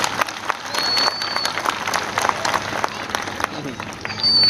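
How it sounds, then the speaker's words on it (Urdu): Women gathered at a protest rally against NRC and CAA in Hubli applaud together, a steady wash of clapping with scattered louder claps at moderate distance. "ایک بار آپ لوگ اپنے لیے تالیاں بجا لیں۔"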